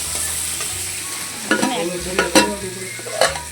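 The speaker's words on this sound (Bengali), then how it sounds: "চিংড়ি মাছ ভাজা চলছে" Shrimp fry in a pan in a home kitchen, a steady close sizzle broken by several louder scraping stirs, with no talking.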